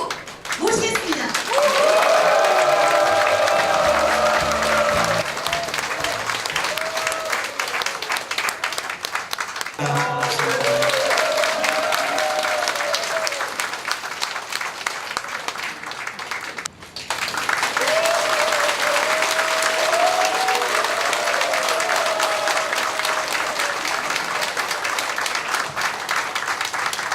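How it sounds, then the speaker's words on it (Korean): A crowd at a Korean education superintendent candidate's campaign office opening claps and cheers loudly and continuously, with shouts and a rising tone of excitement breaking through the dense applause in waves. "여러분의 힘찬 박수와 함성으로 모시겠습니다"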